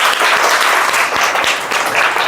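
Children clap together for a young girl named Manvi at a fruit-tree awareness campaign event, a dense, steady round of small hands clapping close by and fairly loud, running without a break and with no talk over it.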